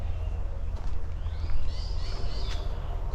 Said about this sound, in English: I don't even know what bird that is